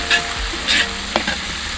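Ginger-garlic paste is stirred into softened onions frying in a pot for country chicken biryani, giving a brief, close sizzling hiss with a couple of spoon scrapes and no voices.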